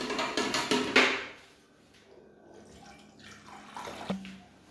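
Calcium chloride stirred into a litre of water for a spritz, giving a splashy, sloshing liquid sound up close that fades into quieter drips and small clinks.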